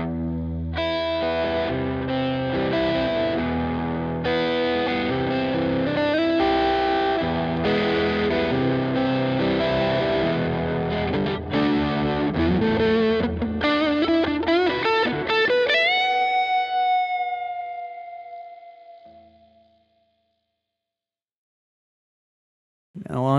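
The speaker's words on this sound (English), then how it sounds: "And kick on that tube screamer." Electric guitar is played through a Tube Screamer overdrive with a T2 reverb pedal, its driven chords and notes ringing for about sixteen seconds before a long reverb tail fades to silence.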